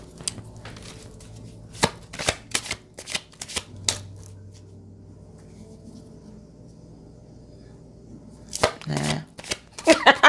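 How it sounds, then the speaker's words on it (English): Tarot cards are shuffled in several quick bursts of crisp riffling and slapping, separated by quiet gaps, with a short stretch of soft background sound in between. "I have to pull cards on that."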